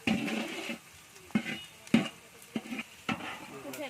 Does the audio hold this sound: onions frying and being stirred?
yes